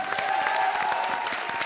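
A comedy show's studio audience applauds steadily in a dense, even patter of claps, with a faint tone running underneath.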